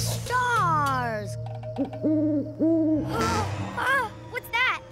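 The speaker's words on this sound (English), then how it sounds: "What's that? Just an owl." An owl hoots in a cartoon night scene with trains under the stars, several clear hoots over a soft music bed, with brief cartoon sound effects around them.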